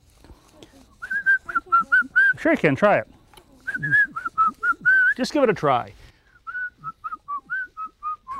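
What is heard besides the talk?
person whistling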